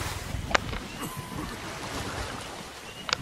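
Water sloshes and laps around a drowning character in the Ark Survival Evolved video game, a soft, muffled watery wash with a couple of faint splashy ticks, steady and moderately quiet.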